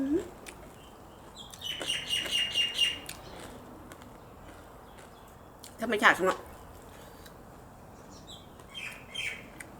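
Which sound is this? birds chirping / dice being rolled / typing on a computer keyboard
birds chirping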